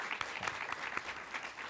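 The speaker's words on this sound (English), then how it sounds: "Yes, let's clap for that." Audience applause at a live podcast show, steady clapping from a crowd throughout, fairly close and even.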